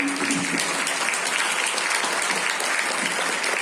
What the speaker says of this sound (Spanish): le doy un aplauso grande a Arturo y